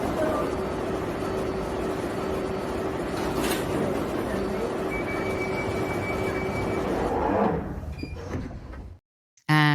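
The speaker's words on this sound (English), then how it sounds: "Mind the gap between the train and the platform." London Underground train at a platform, a loud sustained rumbling roar with a steady tonal whine that slows and fades, ending in a brief quiet gap.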